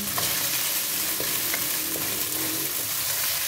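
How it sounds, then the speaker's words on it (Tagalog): Marinated chicken stir-fried in a pan for chicken chow mein, a steady dense sizzle with occasional scraping stirs of a utensil, close and continuous with no voices. "Isa ang marinate ng chicken hanggang sa magbago ang kulay."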